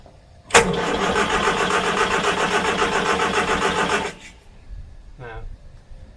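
Morris Minor engine being cranked, the starter grinding in a loud, fast rhythmic churn for about three and a half seconds before cutting off, followed by a short low sputter and a faint rising whine.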